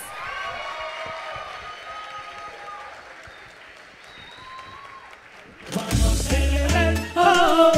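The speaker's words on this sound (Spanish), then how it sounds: "Recibamos con un fuerte aplauso a Quique López." At an awards ceremony, the Premios Influenzando 2019, a voice speaks over a quiet hall, then a sudden loud burst of crowd applause and cheering erupts near the end and carries on strongly.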